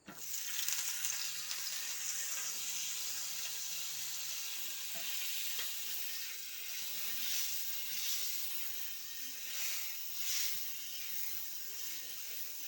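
A big sausage fries in a hot pan, giving a steady, close sizzle with crackling bursts that rise and fall throughout, alone with no talk.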